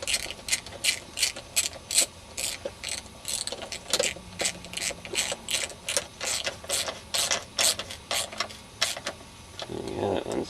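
A ratchet tightening bolts on a Victa Power Torque lawn mower engine, a rapid string of close, crisp clicking bursts in a steady rhythm, with a brief pause partway through.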